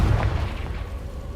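A fire spell blast in the Hogwarts Legacy video game: a loud low boom right at the start that rolls off into a crackling, rumbling tail over about a second.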